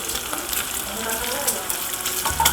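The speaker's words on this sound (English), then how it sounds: "put the guanciale in a fry pan at medium heat with nothing inside, just the guanciale" Guanciale sizzles in a dry frying pan over medium heat, with no oil, giving a continuous crackling hiss of fat with small pops, close and fairly loud.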